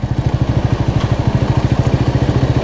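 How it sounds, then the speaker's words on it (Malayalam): A scooter engine putters close by near six-lane highway works at Koyilandi Nanthi, a loud, steady, rapid pulsing throb throughout. "scooter scooter scooter"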